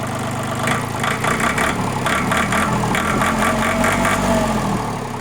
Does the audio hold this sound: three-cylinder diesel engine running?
yes